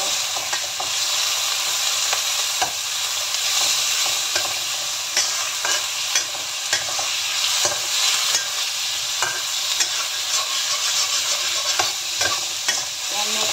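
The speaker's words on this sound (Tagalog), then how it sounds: "Fry lang natin itong karne." Beef sizzling and being stirred in a pan for simple fried noodles, a steady loud crackling fry with scraping stir strokes throughout, no talking.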